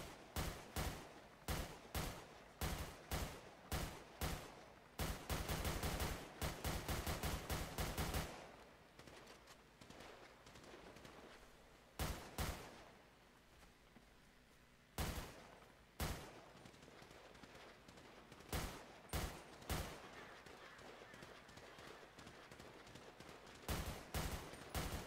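Rapid bursts of gunfire from a shooter in a GTA roleplay game, sharp repeated shots and volleys coming in clusters with pauses between, fairly quiet overall.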